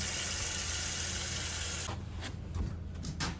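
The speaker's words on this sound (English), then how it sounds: "Now we can go ahead and get this filled with water so we can boil it." Tap water runs steadily into a pot for boiling pasta water in an outdoor kitchen, a continuous hiss that cuts off abruptly partway through, followed by a few faint splashes.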